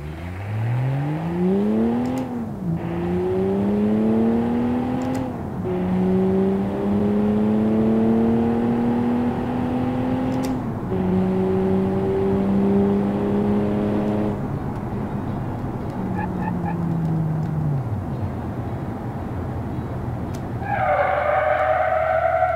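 A turbocharged car in the Automation game accelerates through a quarter-mile run, engine rising through several gear changes, then brakes hard into a tire skid near the end. Loud and continuous with no talk.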